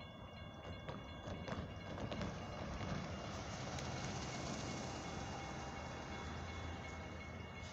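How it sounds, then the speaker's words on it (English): A northbound CSX freight train of auto racks draws near the Flanders Avenue railroad crossing in Lima, Ohio, a steady broad rumble that builds and holds with faint rail clatter, no voices over it. "Train's coming."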